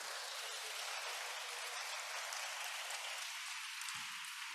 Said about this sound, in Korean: 박수 한번 쳐줘봐요.